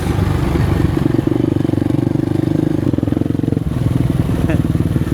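Motocross dirt bike ridden on a flat track, its engine droning loud and close with a rapid steady throb and a slight dip in pitch midway; voices speak over it.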